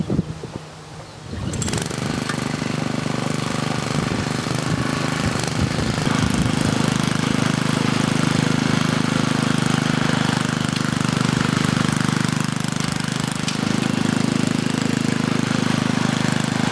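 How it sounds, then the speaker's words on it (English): Rototiller engine tilling garden soil, starting up after a quiet moment and then running as a loud, steady rough drone with knocking texture, close by and continuous with no talk. "thankfully I'm just about finished rototilling for this year"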